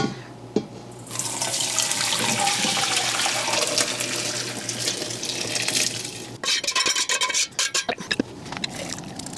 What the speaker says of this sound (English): I'm going to drain the remainder of the water.